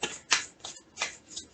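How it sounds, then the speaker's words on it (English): Tarot cards being shuffled by hand, several brisk riffling swishes in an uneven rhythm with short gaps between them, close and clear, no talking. "I like to shuffle my cards different ways."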